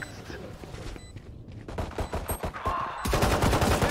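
Gunfire in the video game Valorant comes in loud, rapid bursts that build toward the end, over busy game noise.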